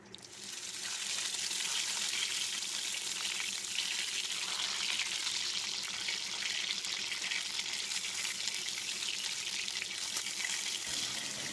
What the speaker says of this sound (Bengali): তেলটা গরম হয়ে গেলে পটলগুলো লাল লাল করে ভেজে নেব।